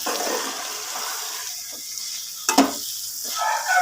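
Crushed garlic dropped into a hot pan of frying flat beans gives a close, steady sizzle and hiss, with a brief clatter of stirring partway through and no talk.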